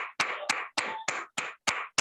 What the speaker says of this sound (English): Whoever's clapping, I got one clap.